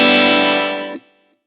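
A Traveler Ultralight electric guitar played through a Positive Grid Spark amp on its first preset gives a single distorted chord that rings out bright and close for about a second, then is abruptly choked to silence.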